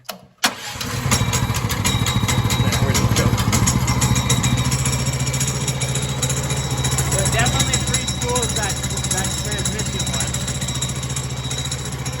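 15 HP go-kart engine, choked for its first startup, catches after a brief crank and settles into a loud, close, rapid-firing idle that runs steadily, with people talking over it.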